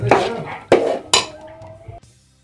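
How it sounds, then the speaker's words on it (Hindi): Chana dal being stirred into sugar syrup in a pan for chana dal halwa: three sharp scraping clinks of a spoon against the pan, each trailing off, followed by a quieter settling sound. "अब इसे मैं मिक्स करूंगी अच्छे से चाशनी में।"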